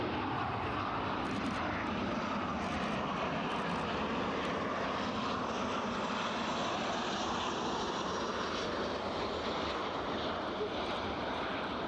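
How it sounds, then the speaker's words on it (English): Eurowings airliner at Edinburgh Airport, its jet engines roaring steadily and loudly throughout with a broad, sustained rumble, wind and outdoor noise mixed in, no talking. "Just listening to the planes."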